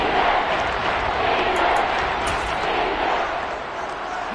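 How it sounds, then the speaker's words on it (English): A stadium crowd roars inside a domed arena during a Madden 23 football game, with a loud, steady wash of cheering and noise running continuously beneath a commentator's voice. "The crowd here in the Dome making things difficult."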